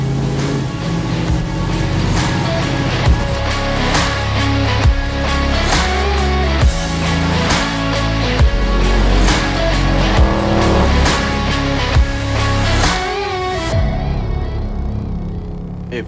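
A supercharged 1968 Chevy Camaro RS/SS cruises with a deep, rumbling engine drone under steady music-like tonal layers, holding loud and continuous before cutting off near the end.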